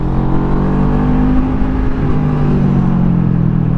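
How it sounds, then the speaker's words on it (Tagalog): A Bristol Bobber 650cc motorcycle engine under way, a loud, close, continuous droning hum whose pitch climbs gently as it pulls. "This is a 650cc engine."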